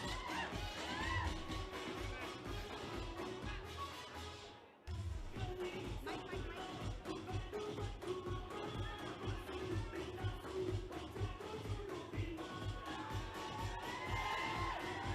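Crowd at a film trailer launch event cheering and shouting continuously over a pounding rhythmic beat, with a brief dip midway.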